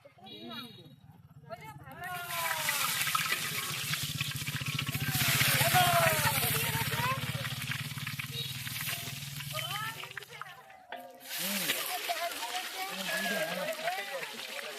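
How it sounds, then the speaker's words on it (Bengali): Cumin seeds hit hot oil at an outdoor night-time picnic cookout, giving a loud, steady sizzle and crackle that runs throughout and swells midway, while people talk over it. "তেল গরম হয়ে গেছে, এই যে জিরা দিচ্ছে।"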